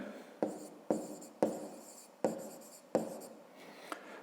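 Chalk or marker writing on a classroom board during a fifth-grade maths lesson, five sharp tapping strokes each trailing into a short scratchy scrawl, close and clear with no talk.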